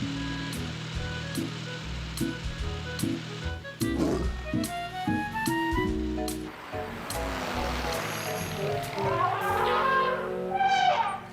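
A cartoon lion roars at a zoo amid a busy animated soundtrack of music and effects, the roar swelling loudly over the layered background for several seconds.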